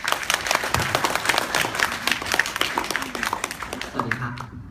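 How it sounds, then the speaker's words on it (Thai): Audience applause welcoming a speaker at a public talk about protecting a beach in Songkhla, loud sustained clapping from a crowd with distinct sharp claps, tapering off at the end as a voice begins. "ขอเสียงปรบมือต้อนรับค่ะ"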